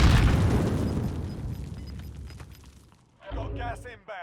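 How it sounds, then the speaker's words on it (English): A C4 explosion in the video game Call of Duty Warzone, a loud close boom that decays over about three seconds into a rumbling tail, followed by a voice talking. "You threw a C4."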